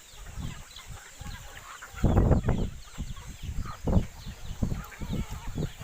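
A flock of Muscovy ducks and chickens crowds together on a small farm, jostling over scattered corn, with clucking and scuffling bursts of varied loudness close by, growing busier midway.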